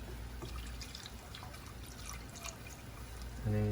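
Milk poured into a pot while cooking, a soft faint liquid trickle with small drips, rising to a steadier louder pour in the final moment.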